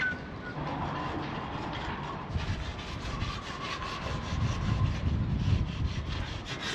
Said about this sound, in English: doing the last bit of cleaning before we varnish those aluminium rails